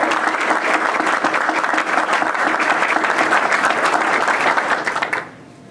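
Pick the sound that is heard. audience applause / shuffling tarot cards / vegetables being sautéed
audience applause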